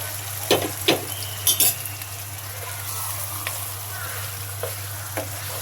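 Chicken curry frying in a pan with a paste of ground nuts and fried onion, giving a steady close sizzle broken by several sharp stirring scrapes and clinks; no one speaks.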